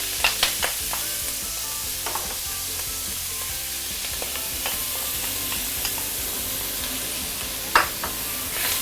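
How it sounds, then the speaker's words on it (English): Radish sautéing in a pan, a continuous loud sizzle with scattered scrapes and clicks from stirring, including one sharper knock near the end, and no talk. "So now we need to saute our"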